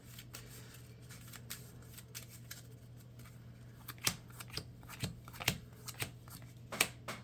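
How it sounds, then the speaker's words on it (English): Playing cards from a Marvel Champions deck being shuffled by hand, a quiet run of soft riffling and sharp card snaps that grows busier in the second half, close up with no talking. "I'm still going to shuffle cards in"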